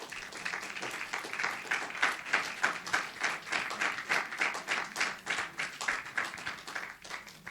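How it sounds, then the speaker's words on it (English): An audience at a talk and conversation event breaks into spontaneous applause, many hands clapping in a steady, fairly close roar that holds throughout. "that's a very good sign to get spontaneous applause when you're halfway through thanking someone"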